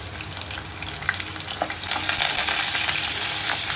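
Green chili with garlic and curry leaves frying in hot oil for a fish curry, a dense sizzle with occasional spatters and a stir, growing louder partway through.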